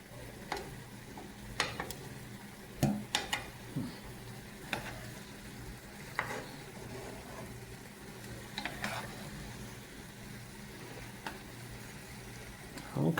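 Onions frying in a pan for a Thai-style pork stir-fry, a soft steady sizzle broken by sharp scraping clicks of a utensil stirring, fairly quiet and close.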